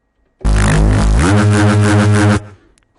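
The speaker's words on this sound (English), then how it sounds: "I can add a little bit of white noise on top of that" A short reese synth bass note with a hiss of bright white noise layered over it, sustained for about two seconds before cutting off.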